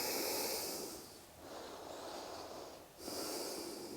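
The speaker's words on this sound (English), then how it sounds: "And you're breathing." Deep nasal breaths in and out during a yoga lunge: a long hissing exhale, then a quieter inhale and another strong exhale, close and alone.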